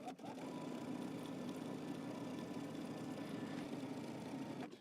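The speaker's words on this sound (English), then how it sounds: "We're going to go ahead and understitch about 1/8 of an inch away from that seam" A sewing machine runs in one continuous even whir while understitching a band about an eighth of an inch from a seam, steady and quiet, with no talk.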